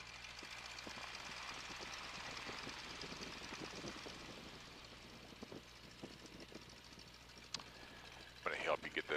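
A 1942 Boeing N2S-2 Stearman biplane's engine drones steadily while taxiing, a continuous low rumble heard from inside with faint radio-style talk and a few clicks and knocks near the end.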